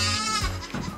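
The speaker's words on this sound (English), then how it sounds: "All right, so the goats are done." A goat gives a short, close bleat, a single wavering call on a farm with no talking.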